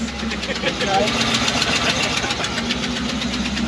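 A Mitsubishi Evo X idles with an exhaust leak, giving a steady low rumble with a ticking, puffing pulse from the leak. The engine runs close and loud while people talk nearby.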